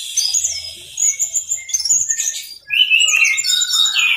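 Orange-headed thrush (anis merah) sings alone, with bright, rapid whistles, trills and chirps in bursts that shift pitch and rise again after a brief pause, close and clear.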